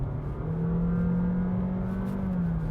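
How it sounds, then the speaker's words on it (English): A 2023 Honda Jazz engine with a CVT gearbox drones at steady, rising revs under acceleration with a sustained whining hum, loud and continuous with no one talking. "Any press of the accelerator is usually met with quite a lot of noise"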